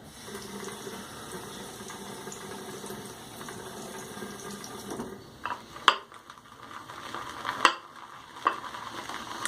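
Shaving soap is lathered in a bowl, giving steady wet swishing and squelching that turns into sparser, sharper smacks and swirls as the lather is mashed down and spread around the sides.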